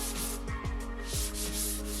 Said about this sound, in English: I sanded all the components of the legs to 220 grit using combination of my sander and hand sanding.